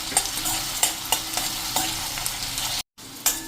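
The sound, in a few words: chopped onion with cumin frying and being stirred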